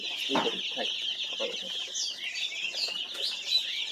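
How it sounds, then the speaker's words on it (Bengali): Chickens on a small farm cluck and chirp close by, with busy overlapping calls running throughout and a few brief low rustles or voices underneath. "মুরগিগুলো অনেক সুন্দর আছে, অনেক চঞ্চল আছে"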